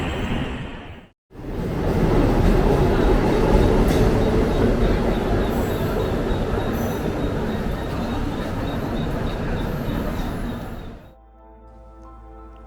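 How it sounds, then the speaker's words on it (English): Mumbai local railway train passing close by, a loud sustained rumble and clatter of wheels that swells in after a brief gap and rolls on for several seconds before dropping away abruptly. "here comes the lifeline of Mumbai, that is the local railway"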